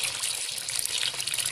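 Hot water poured into a pot of spicy beef biryani gives a continuous bright, splashing gush, close and steady for the whole moment with no voices.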